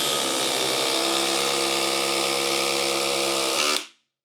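A DeWALT quiet hydraulic impact driver runs with a steady, loud, dense whir and no break, then cuts off sharply near the end with a short fading tail.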